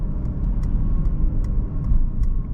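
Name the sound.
quiet engine hum inside 2024 Mercedes-Benz E350 while driving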